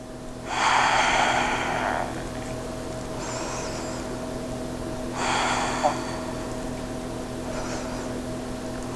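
Deep breaths during a yoga core hold: two strong, long exhalations and softer intakes between them, close to the microphone over a steady low room hum.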